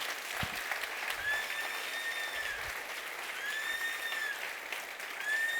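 A church congregation applauds the Lord during a sermon, steady broadband clapping throughout, with brief rising whistle-like tones and a few low thumps mixed in.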